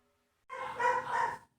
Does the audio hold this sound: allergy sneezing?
no